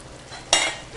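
Soaked and drained rice is stirred into egg biryani gravy in a pot, giving two brief wet scraping and sizzling bursts of a spoon moving through the mixture, close up.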